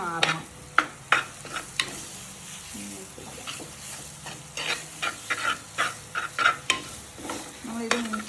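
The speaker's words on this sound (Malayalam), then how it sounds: "ഇത് നമ്മൾ ഇളക്കി മൂപ്പിക്കണം" Fish curry masala being stirred and fried in a pan: steady sizzling with repeated sharp scrapes and clinks of a utensil against the pan, close and fairly loud throughout.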